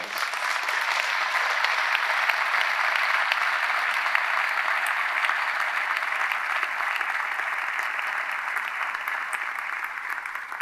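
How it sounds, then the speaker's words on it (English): Sustained audience applause at a presidential inauguration installation ceremony, a dense, steady wash of many hands clapping, loud and even throughout with no voices over it. "Let's give them a round of applause."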